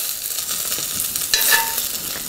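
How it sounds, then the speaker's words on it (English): Beef pieces sear in a hot pan with a crisp, close sizzle and crackle, with a brief burst of louder spattering partway through. "They smell so nice when they're seared all golden brown like that."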